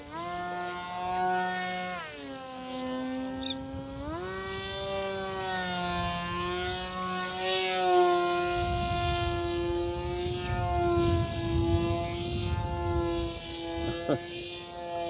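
A Twisted Hobby F22 Raptor 29-inch RC jet on its maiden flight makes a steady, loud whine whose pitch rises and falls as the pilot manoeuvres, with a rougher broadband roar underneath.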